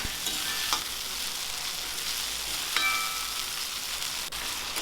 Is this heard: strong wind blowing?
no